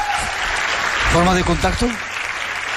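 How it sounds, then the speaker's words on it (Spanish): Studio audience applause, a wash of clapping that runs throughout while someone speaks briefly over it. "Pido un aplauso para él."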